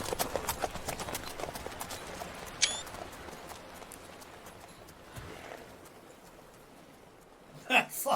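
Horse hooves in The Witcher 3: Blood and Wine clip-clop in a quick, steady rhythm at moderate volume, with a couple of sharper knocks and clatters over a soft background hiss.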